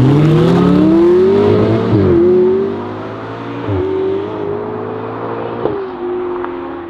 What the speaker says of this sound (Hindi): तो ठीक है गाइस, ड्रैग रेस को शुरू करते हैं।